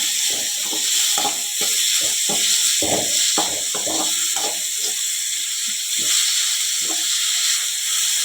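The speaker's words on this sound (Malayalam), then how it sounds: "അപ്പോൾ അതിലോട്ട് എണ്ണ ഒഴിച്ച് ഇനി ഇതേ സബോള ഇട്ട് കൊടുക്കുന്നു. നമ്മൾ കക്കയിറച്ചിക്കായി സബോള വഴറ്റുകയാണ്." Sliced onions sauté in oil in a pan for a clam meat dish, a continuous close hiss and sizzle broken by frequent small scrapes and taps of a spatula, with no talking.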